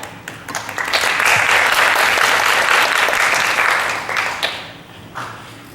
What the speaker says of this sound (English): I want you to give you a big round of applause for being here today